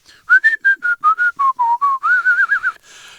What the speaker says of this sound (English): But in any case, whistling is this.